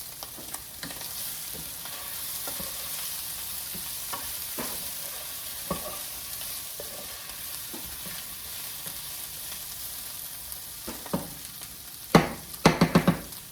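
Sweet sausage sizzles and fries in a pot, a steady crackling hiss with occasional spoon stirs and scrapes that grow louder and clustered toward the end.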